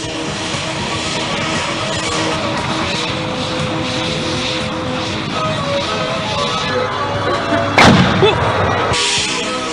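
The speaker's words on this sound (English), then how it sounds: "This is how a pipeline break is imitated" A simulated gas pipeline rupture at a fire-extinguishing test, heard as a sustained loud roaring blast with heavy rumble and a sharp burst near the end, continuous and close.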